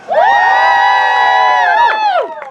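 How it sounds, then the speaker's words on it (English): Theatre audience at a Shakespeare-themed Romeo and Juliet event cheering loudly on cue, a sustained crowd roar with whoops and shouts lasting about two seconds, then tapering off. "I am Will Shakespeare, which means you should cheer now!"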